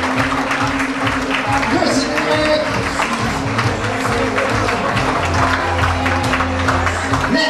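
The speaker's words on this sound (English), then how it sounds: "Let's give them a round of applause" Wedding reception guests applaud as a couple enters the room, steady clapping over music and crowd noise, loud and continuous throughout.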